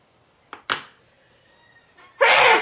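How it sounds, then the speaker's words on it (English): A person sneezes indoors during a quiet card-making session: a small sharp intake and burst, a pause with faint rustling, then one loud explosive sneeze close to the microphone. "oh, I'm gonna sneeze."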